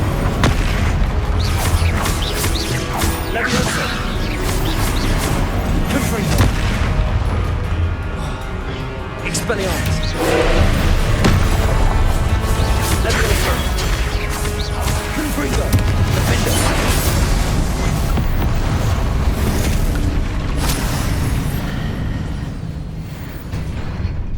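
Spell blasts in the game Hogwarts Legacy: a dense, nonstop barrage of booming impacts, crashes and whooshing bursts, loud and close, with a voice-like layer running through the battle din.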